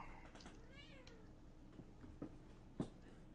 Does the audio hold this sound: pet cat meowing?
yes